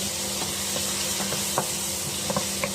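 Pork belly sizzles in a pan as a little water is added, a steady hiss with a few scattered clicks and stirring taps close by, no talking.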